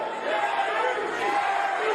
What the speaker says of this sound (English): the crowd chanting, Gary, as Russell hopes to subject Magsayo to Capitol Heights punishment